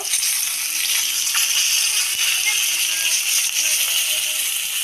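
A rohu fish head, just flipped, fries in hot oil with a steady, loud, hissing sizzle. Faint clicks and spatters pop up now and then across the frying.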